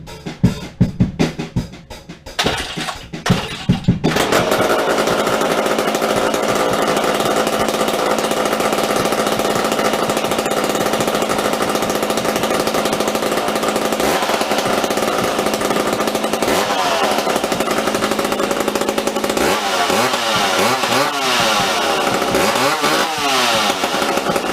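A McCulloch chainsaw is started with a few rough pulls and sputters, then runs loud and steady at high revs for a long stretch, with the engine note wavering slightly near the end.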